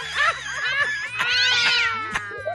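A cat yowls and caterwauls in a run of drawn-out, wavering cries broken by short pauses, loud and close, with no talk over it.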